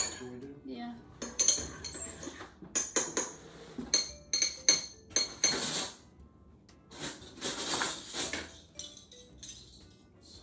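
A spoon clinks and scrapes against a dish while stirring homemade raw cow milk yogurt with honey, in close, irregular bursts of metallic taps with quiet gaps between.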